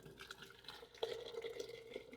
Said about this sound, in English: I'll fill these jars up with the boiling water